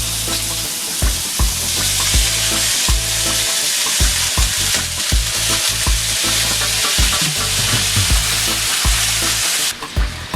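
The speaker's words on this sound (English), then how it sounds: "We're gonna let that simmer for a good 2 to 3 minutes." Teriyaki sauce bubbles and sizzles loudly in a hot pan, a constant close crackle broken by repeated stirring and scraping knocks throughout, with no voices.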